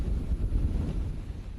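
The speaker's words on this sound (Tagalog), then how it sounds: "binabayo ng malakas na ulan at mas malakas pang hangin ang Batangas" Strong wind gusting during a heavy rainstorm in Batangas City, a steady low roaring rush with buffeting against the microphone, no voices.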